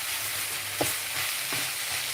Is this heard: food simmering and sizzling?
yes